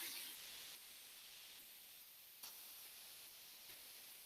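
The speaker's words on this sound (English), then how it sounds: "I've got my pan just sizzling on low at the moment." Soft, steady sizzle of a pan over low heat while cooking pancit bihon, a faint continuous hiss with a few small pops, no voices.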